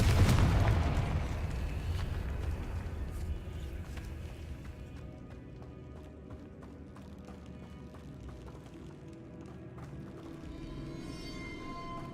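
A Confringo blasting spell in the Hogwarts Legacy video game sets off a loud, booming explosion at the start, and its rumble decays into a long, low tail with game ambience.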